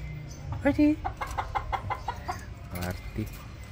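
Rhode Island Red chickens cluck in a series of short, close calls with a few louder squawks, over a low background hum and faint voices.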